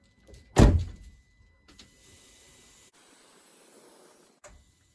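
A 2012 Range Rover Sport SDV6 has its door shut with one solid thunk. A soft, steady whir follows as the air suspension lowers to access height, ending in a faint click.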